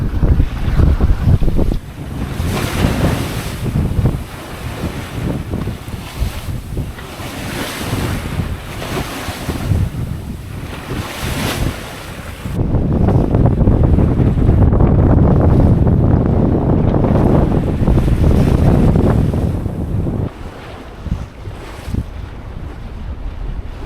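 Strong wind and big breaking seas surge around a sailboat on open water off Baja, with loud, continuous roaring wash and wind buffeting the microphone, swelling heavier partway through.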